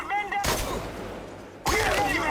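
Gunfire in the video game Chernobylite: two loud, sharp bursts of shooting, each one a sudden broadband crack that rings out, separated by a quieter stretch of about a second.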